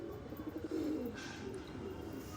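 Pigeons on a house roof give soft, low cooing calls in a steady murmur, faint and somewhat distant against background noise, with no voices.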